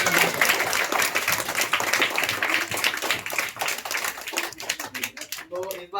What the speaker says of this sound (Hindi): एक बार उनके लिए जोरदार ताली करना है। बजाइए।